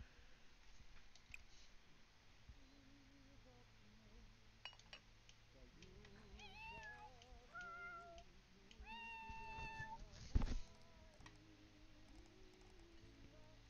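A cartoonish game cat gives several short meows over a busy mix of clinks, chimes and soft background game sounds, with one louder burst near the end.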